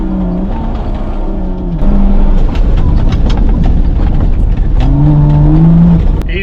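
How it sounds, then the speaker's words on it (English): A car is driven sideways on a buggy track on private property, its loud engine revving and droning continuously, with pitch rising and falling as the throttle works. "I get to have some fun in the car, and you get to see it go sideways"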